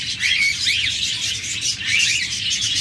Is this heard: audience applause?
no